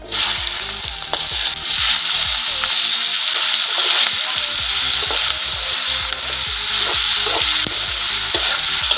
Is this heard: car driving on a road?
no